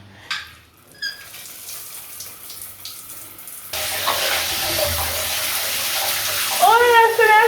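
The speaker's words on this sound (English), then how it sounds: "Oh, yes, so I take a shower." Running water from a bathroom shower, a steady broadband hiss that starts partway through after quieter clicks and movement, fairly close and continuous to the end.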